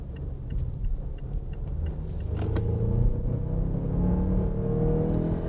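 A 2020 Mazda CX-9 engine pulls through a steady acceleration while driving, a continuous low rumble and whir that rises gradually in pitch and strength, with no talking.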